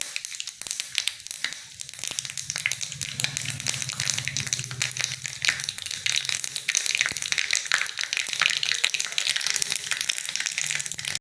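Mustard and cumin seeds with a pinch of asafoetida splutter in hot oil for a Gujarati kadhi tempering: a dense, steady crackle and popping that carries close and continuous, with no voices.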